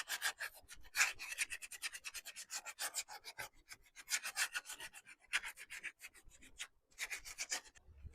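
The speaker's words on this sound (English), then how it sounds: "I'm going to take some sandpaper now and then work down those bumps." Sandpaper is worked in quick, rhythmic strokes over the bumps of a painted figurine, a close, soft scratchy rubbing that runs almost without a break.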